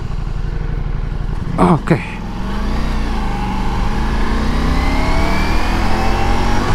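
Close engine drone of a Ducati Multistrada V4 Pikes Peak motorcycle ridden at night, holding steady and rising gradually in pitch as it accelerates, broken by a brief sharp burst of noise and a short spoken word.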